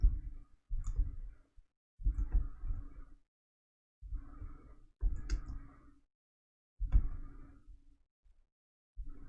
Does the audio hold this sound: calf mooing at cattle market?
no